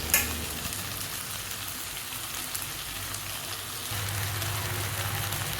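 Prawn masala with tomato and ginger garlic paste sizzles steadily in a pan, a continuous close hissing fry with faint stirring scrapes, growing slightly fuller toward the end.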